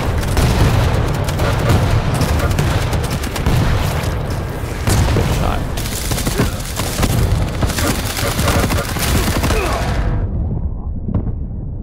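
A minigun in Quake Champions fires as a loud, sustained, dense roar of rapid shots with booming impacts, running continuously for about ten seconds before cutting off abruptly.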